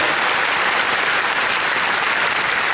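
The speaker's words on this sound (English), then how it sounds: "a round of applause for" A large crowd at the D23 Expo Haunted Mansion 50th anniversary presentation applauds in a loud, dense, unbroken roar of clapping that holds at full strength throughout.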